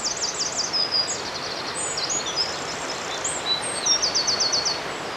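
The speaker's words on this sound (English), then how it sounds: "The loudest bird in the woodland is a wren." A wren sings in woodland at Dare Valley Country Park, its rapid high trills and chattering phrases coming in short bursts at a moderate distance over quiet, rustling background.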